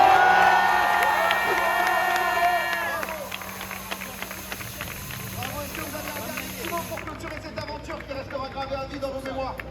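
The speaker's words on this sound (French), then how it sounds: "on peut les applaudir, s'il vous plaît" A crowd at a charity challenge finish in Levallois applauds and cheers, loud at first and then thinning into scattered clapping and whoops, with voices talking over the noise.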